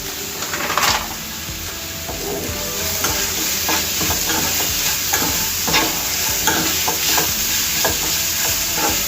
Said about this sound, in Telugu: అంతా వేసుకొని మొత్తం మిక్స్ అయ్యే విధంగా కలిపేసుకోవాలండి.